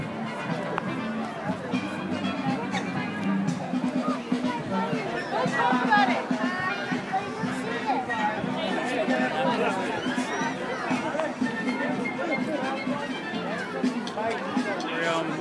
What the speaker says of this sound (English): show you exactly what the crowd looks like in front of the castle